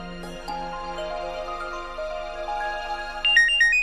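A mobile phone ringtone plays a bright electronic melody of stepping tones, growing slightly louder toward the end, with no voices over it.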